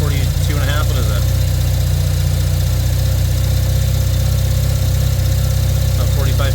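A turbocharged Mazda RX-7 rotary engine idling, a steady loud low drone with a fast, slightly uneven pulse that continues without a break.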